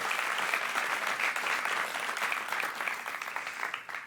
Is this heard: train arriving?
no